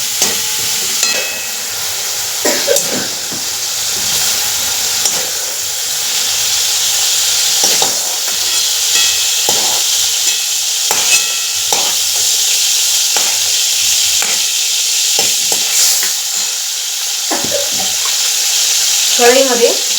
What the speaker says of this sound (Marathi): यांना तेलमध्ये ना थोडेसे फ्राय करून घ्यायचे।